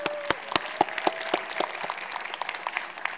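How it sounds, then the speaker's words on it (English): A small audience at a panel session on Latino filmmakers applauds a speaker, sparse, individually audible claps with a lively, irregular rhythm at moderate volume. "We can have another round of applause for Maheen,"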